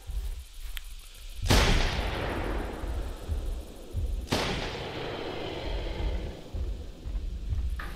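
Two loud, sharp rifle shots ring out in The Hunter Primal hunting game, each followed by a long, echoing tail. Ambient outdoor noise persists between them and no one speaks.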